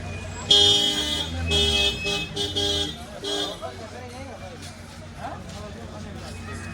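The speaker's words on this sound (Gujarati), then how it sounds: "અને આપણે આ ફોર વ્હીલ આવે છે તે સિંહ જોવા લઈ જાય" A four-wheel safari jeep at the Devaliya lion park in Sasan Gir honks several short toots near the gate and parking while its motor runs, with voices talking over the vehicle noise.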